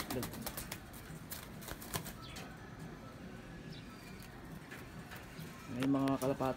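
Domestic pigeons coo near a nesting spot with eggs, a short rounded call rising clearly near the end over a busy background of other birds, rustling and a speaking voice.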